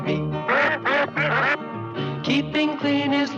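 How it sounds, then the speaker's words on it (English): A duck quacks loudly and close by, in a quick run of nasal calls with short pauses between them. "it talks with a quack too"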